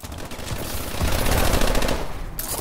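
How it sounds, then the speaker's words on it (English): Rapid automatic gunfire from a Call of Duty Advanced Warfare multiplayer match, loud and continuous bursts filling the whole stretch with dense crackling shots. "Let's just shoot that over there."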